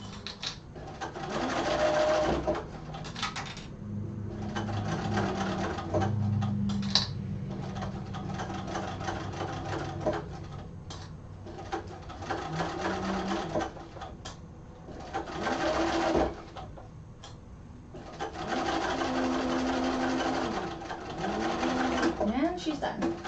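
A sewing machine with a badly wound bobbin runs in bursts of rapid mechanical stitching, stopping and starting, close and clear, while a person talks between the runs.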